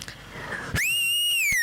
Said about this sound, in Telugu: ఒక విజిల్ వేస్తా